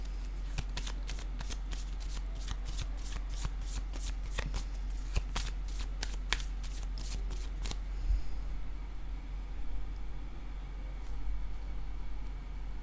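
Tarot cards being shuffled in a quiet room, a rapid series of crisp riffling snaps for about eight seconds, then faint background hiss with no talking.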